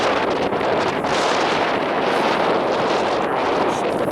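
Strong, steady wind gusts buffet the microphone outdoors at an airgun shooting range, a loud continuous roar and rumble with no break, and no one speaks.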